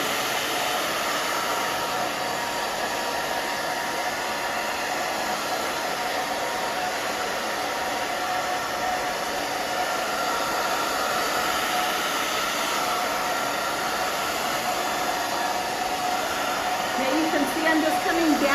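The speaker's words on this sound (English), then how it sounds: "the blow dryer in the same direction" A hair dryer blows continuously with a steady, hissing whoosh of air, loud and close, running unbroken for the whole stretch.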